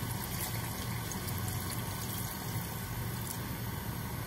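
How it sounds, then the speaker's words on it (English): Half a liter of water is poured into a thick chicken pulao gravy, a steady continuous splashing, gushing stream heard up close with no talking. "you add half a liter of water"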